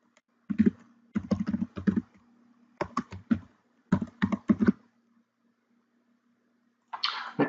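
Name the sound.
typing on a computer keyboard to rename a sketch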